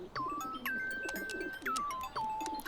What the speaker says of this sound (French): Tu crois vraiment que les pigeons descendent des dinosaures?